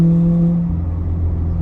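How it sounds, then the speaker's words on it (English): A C8 Corvette fitted with a titanium catback exhaust revs loudly up close, a deep steady engine drone that settles into a lower held note after the first half-second, with no talking. "this thing sounds like such a crazy exotic vehicle"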